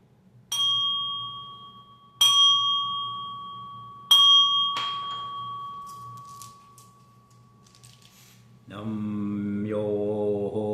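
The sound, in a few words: ringing of a bell before Buddhist chanting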